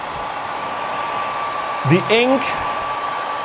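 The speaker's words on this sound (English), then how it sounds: "I just use a hairdryer for this," Hair dryer blowing steadily on a printed book page to make ink vanish with heat, a constant near whir with a faint whine, while a person speaks briefly over it.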